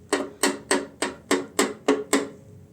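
A Volga Siber car knocks in its front suspension with eight sharp, evenly spaced metallic thuds in quick succession, each ringing briefly, close and fairly loud.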